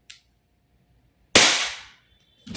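A WE Glock 17 Gen 4 airsoft gas blowback pistol fires one sharp, close crack with a hissing decay, followed by a short click and a brief noise.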